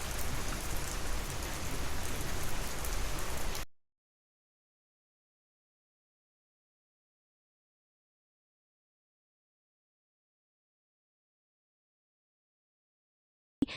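Steady rain pattering on a surface for a few seconds, then it cuts off to silence.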